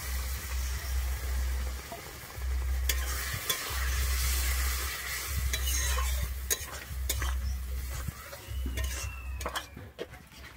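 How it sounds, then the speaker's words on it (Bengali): Water splashes into spiced masala frying in oil in a pan while cooking potol chingri, setting off a loud continuous sizzle with stirring scrapes and occasional clinks, and no talking. "আমার মশলাটা যেহেতু এখানে একটু ল্যাটপেটানি লাগবে তাই জন্য আমি কিন্তু একটু জল দিচ্ছি"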